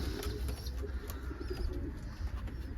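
Tumbler pigeons coo in a loft with low, steady, rolling calls that overlap continuously at moderate loudness over a dull background rumble.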